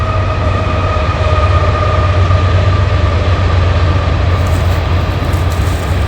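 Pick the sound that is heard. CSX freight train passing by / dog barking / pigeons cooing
CSX freight train passing by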